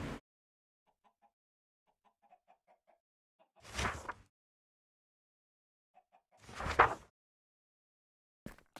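Minecraft-style chicken clucks in a video game, a few faint short clucks between two louder bursts of sound, with otherwise quiet gaps.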